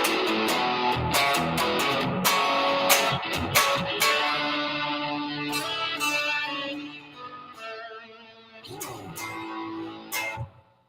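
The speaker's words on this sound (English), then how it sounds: "the 1995-96 made in Japan photo flame Fender Nashville Telecaster that sounds like this" A 1995-96 Japan-made photo flame Fender Nashville Telecaster rings out in a loud run of strummed chords and picked notes with sharp attacks and sustained tones, close up, ending in a brief pause and one final strum.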